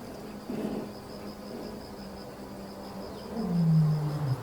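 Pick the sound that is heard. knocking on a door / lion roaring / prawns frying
lion roaring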